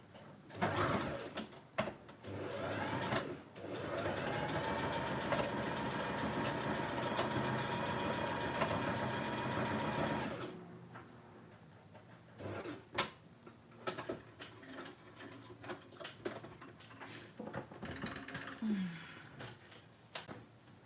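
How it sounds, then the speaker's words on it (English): A sewing machine stitches through fabric with a steady motor whir and rapid needle chatter for about ten seconds, then stops, leaving quiet room sounds and scattered light clicks and knocks. "so I've just sewn through"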